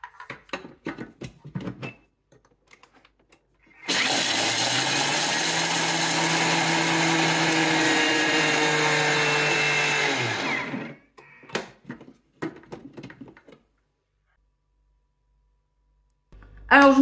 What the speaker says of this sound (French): Je vais les mettre dans mon mixeur et les réduire en poudre.